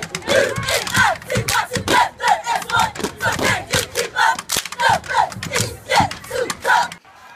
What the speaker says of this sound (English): they got in the CIAA Unity cheer